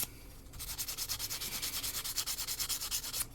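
A CNC-machined TFL Mini Zonda drone propeller blade being sanded by hand with 800 grit sandpaper, a steady run of rhythmic back-and-forth rubbing strokes, close and fairly loud, with no talking.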